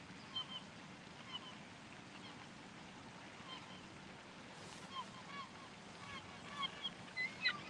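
Geese stirred up near open water honk in scattered bursts, growing more frequent toward the end, over a constant wash of wind and surf-like noise.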